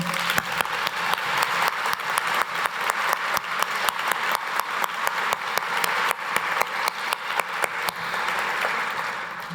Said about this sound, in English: Please join me in another round of applause for Heather and her win.